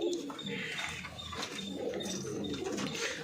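Pigeons cooing inside a loft of high-flying racing pigeons, soft low murmuring calls continuing through the stretch at moderate distance, mixed with faint rustling and background chatter.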